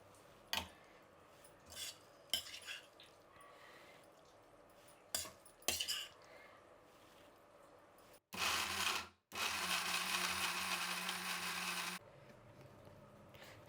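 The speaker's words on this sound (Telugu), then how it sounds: "ఇప్పుడు మిక్సీ పట్టేద్దాము." A kitchen mixer grinder blends green chutney in loud, steady bursts, a short whir followed by a longer continuous run, after scattered clinks and knocks of handling.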